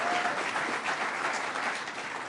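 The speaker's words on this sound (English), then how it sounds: "Let's give a round of applause." A crowd at a New York governor's press event gives a round of applause, a dense patter of many hands that holds steady at moderate distance and eases slightly toward the end, with no voices.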